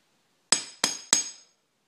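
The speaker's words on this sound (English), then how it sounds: "Where's my tapping hammer?" Three sharp metallic knocks from a tapping hammer striking a hydrogen dry cell, evenly spaced about a third of a second apart, each ringing briefly before the next, with quiet before and after.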